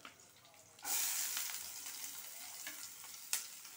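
Chopped onions hit hot oil already holding urad dal, dried red chillies and garlic, bursting into a loud, close sizzle that settles into steady frying, with a brief stir or crackle near the end.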